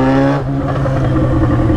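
A Yamaha XJ6 motorcycle accelerates through heavy city traffic, its engine producing a loud, close, steady drone with strong harmonic tones throughout, with no talk.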